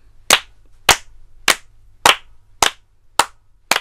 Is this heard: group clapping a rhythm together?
yes